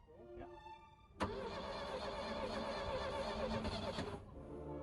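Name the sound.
Bayliner boat engine cranking with starter motor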